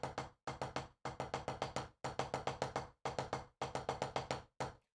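A snare drum played through a triplet sticking exercise: crisp, close strokes fall in tight groups of three and four, each group separated by a short silence, with no talking over them.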